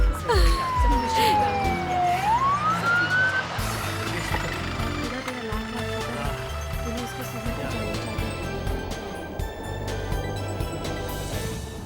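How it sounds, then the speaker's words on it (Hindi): A wailing ambulance siren sweeps down and back up, loud and nearby, over rumbling traffic and engine noise. "एम्बुलेंस भी आ गई।"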